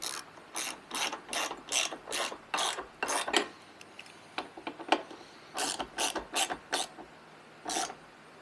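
A ratchet drives the mounting bolt of a bi-color pod light on a Jeep Wrangler, with bursts of crisp close clicking strokes, a brief looser stretch of single clicks, then more clicking runs.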